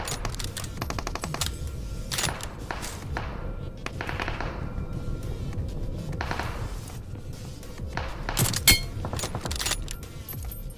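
Gunfire in the mobile battle royale game BGMI, bursts of sharp rapid shots and clattering impacts scattered across the stretch, some loud and close, others fainter, with no talk.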